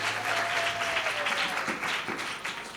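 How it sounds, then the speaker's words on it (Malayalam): A church congregation at Immanuel Church, Nellikkunnu claps for a child who has just sung, a full, steady round of applause at moderate level with a faint tone in the background and no talk. "നല്ലൊരു കൈയടി കൊടുക്കാം."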